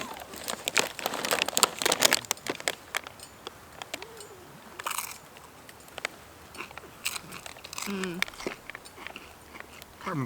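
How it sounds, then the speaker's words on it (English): Sharp, repeated crunches from tortilla chips with lime and cilantro being bitten and chewed at a trail lunch, irregular bursts close to the mic, with faint bird chirps outdoors. "the crunch of the chip"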